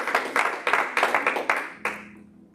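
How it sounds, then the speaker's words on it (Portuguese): A church congregation claps in unison, about eight sharp rhythmic claps in a row, close and loud, ending with a final clap that rings out in the room. "Uma salva de palmas para o Senhor."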